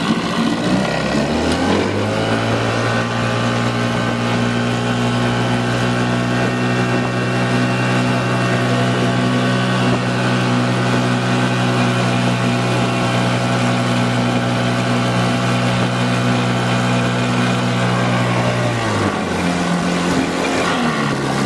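An antique outboard motor runs with a steady, fairly quiet hum that climbs in pitch and holds at higher speed, then drops back near the end; no voices.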